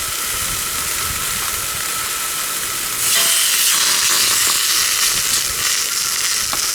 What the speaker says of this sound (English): I'm going to go ahead and get my peppers warmed up.